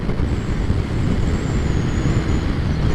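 A vehicle drives flat out during a top speed test, giving a steady, loud, low engine and road roar with a faint high whine riding on top.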